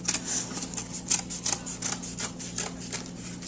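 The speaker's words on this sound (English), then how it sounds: "I'm going to use my scissors this time." Scissors cut through thick cardboard for mask making, giving a run of about ten crisp, evenly paced snips that sound close and fairly quiet over a low steady hum.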